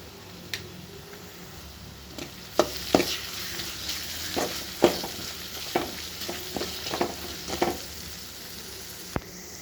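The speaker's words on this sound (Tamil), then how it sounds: "நம்ம ஆனியன் நல்லா வதங்கிட்டு இருக்குது பாருங்கள்" Onions sizzle and fry steadily in a frying pan while a utensil scrapes and taps against it in irregular strokes.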